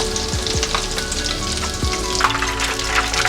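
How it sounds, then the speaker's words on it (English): Tempura-battered shrimp fry in hot oil with a steady, dense sizzle and bubbling, close and loud throughout, with no voices over it. "So I'm gonna fry all of them."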